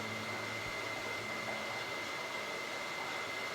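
An HHO hydrogen-oxygen gas torch flame burns with a steady, even roaring hiss, close and continuous without a break.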